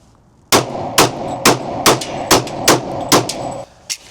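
A Smith & Wesson M&P 10mm pistol fires about eight loud, sharp shots in a quick, fairly even rhythm outdoors on a range, each with a short echoing tail, with no talking.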